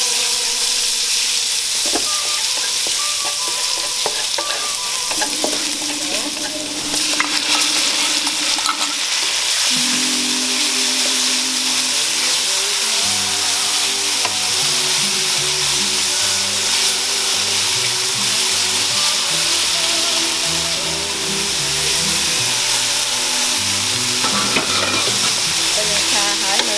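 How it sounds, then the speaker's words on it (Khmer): Chow mein noodles are stir-fried with crushed garlic in a hot pan, a steady loud sizzle with continuous scraping and tossing sounds throughout, and no talking. "ហើយឆាវា"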